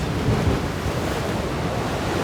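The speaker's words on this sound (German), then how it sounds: "Wind und Wellen draußen sitzt" Wind and ocean waves around a sailboat on the open Atlantic at night, a steady, loud broadband rush of surf and gusting wind buffeting the microphone without a break.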